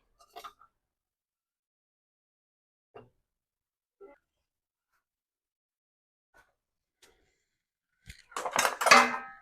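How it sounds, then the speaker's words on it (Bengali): Plates and bowls being washed after a home-cooked meal of vegetable curry and fish curry, heard as a few faint scattered clinks of dishes and cutlery, then a louder burst of clattering crockery near the end, with no voices. "এখন এই সব প্লেট বাটি ধুয়ে নেব।"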